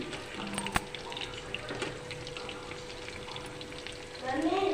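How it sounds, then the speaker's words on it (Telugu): Chicken pakoda frying in hot oil gives a steady, close sizzling hiss with small crackles throughout, with no speech over it. "ఇలా మనం ఫ్రై చేసుకుంటే సరిపోతుంది చికెన్ చూడండి ఎంత బాగా వేగినాయో"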